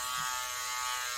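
A Parkside 4V cordless rotary tool runs steadily at low speed with a continuous, even electric buzz and whine, close and alone, with no break in its tone.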